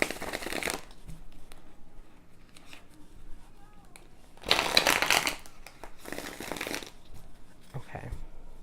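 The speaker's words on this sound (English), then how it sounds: "A couple more shuffles here." Tarot cards shuffled by hand in a quiet room, three brisk riffling bursts separated by pauses with faint handling sounds in between.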